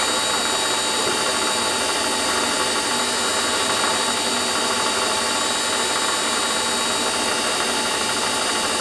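A toolpost grinder mounted on a Warco lathe grinds metal to blend two small diameters, a loud, continuous high-pitched whine with a steady grinding hiss throughout.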